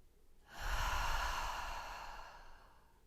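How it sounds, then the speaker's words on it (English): One long, deep exhale during a standing yoga sequence swells in softly, holds steady for about two seconds and slowly fades, close and breathy with no talk. "Inhale deeply and release."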